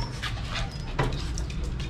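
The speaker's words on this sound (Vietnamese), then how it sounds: "ôi chó, này này xuống đi chó, xuống" A small dog in a rooftop garden whimpers and pants close by, a short run of breathy whines and soft yips with no talking.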